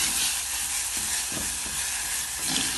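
Cumin and roasted garlic sizzle steadily in hot oil for garlic rasam, a continuous close frying hiss with faint stirring scrapes and no voices.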